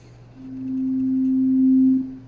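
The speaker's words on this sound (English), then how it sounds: "I'm just playing a sine wave at 261 hertz." A pure sine wave from an oscillator in Logic Pro holds one steady, clean tone for about two seconds, fading in and swelling slightly before cutting off, alone and without any voice.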